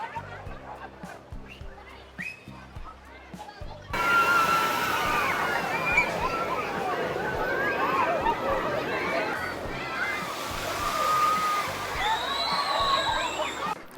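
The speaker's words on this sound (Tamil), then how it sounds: "இதுக்குள்ளே அப்படியே தண்ணி நிறைஞ்சிடும், அப்படியே கொண்டாந்து பவுட்டு ஊற்றிவிடும்" At a Canada's Wonderland water park, a huge bucket fills and dumps its water in a loud, roaring sustained slosh that begins abruptly and carries on under crowd noise and scattered voices.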